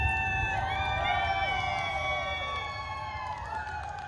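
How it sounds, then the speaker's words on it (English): A crowd cheering and whooping across a lake, with many high sustained shouts and whistles layered together at a steady moderate level, somewhat distant. "Got the whole lake cheering for you"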